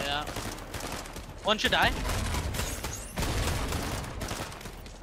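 Rapid gunfire during a Fortnite duo cash cup match, with continuous crackling shots and a few louder bursts under a player talking.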